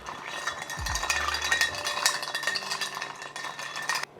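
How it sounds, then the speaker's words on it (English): A rye whiskey cocktail stirred in a glass with ice, continuous close clinking and tinkling for a few seconds. "Give that a stir."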